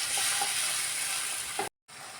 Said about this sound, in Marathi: आता कांदा टोमॅटो मस्त फ्राय झालेत